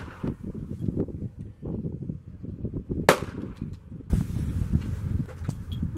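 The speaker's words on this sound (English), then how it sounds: "Loaded, ready to go. I'm going to shoot at his belly this time." Outdoor gunshots fired at a shooting target, two sharp cracks a second apart separated by rustling and wind noise, with no voices.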